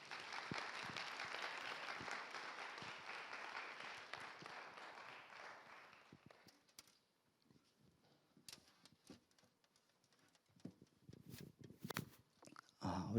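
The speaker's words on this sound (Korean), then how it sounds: "우리 박수로 환영하겠습니다." A chapel congregation at a Methodist theological university applauds to welcome a pastor, a broad, even wash of clapping that fades after about six seconds into a quiet room with scattered shuffling, knocks and movement.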